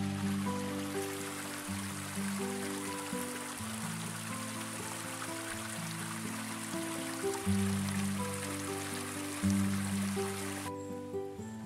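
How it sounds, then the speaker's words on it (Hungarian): A mountain stream trickles and splashes steadily nearby in a gorge, a continuous babbling flow heard alone alongside a sustained musical tone. "Valahol a hegyből folyik a víz."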